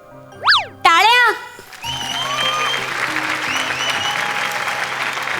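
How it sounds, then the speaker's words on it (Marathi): An audience at a comedy show award presentation bursts into sustained, dense applause from a large crowd. It follows a pair of bright, bouncy boing sound effects and continues strongly to the end. "टाळ्या"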